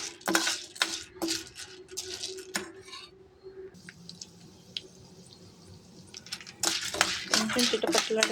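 Popcorn kernels beginning to pop and crackle in hot ghee in a pan, with sharp irregular pops clustering at the start and end and quieter sizzling between.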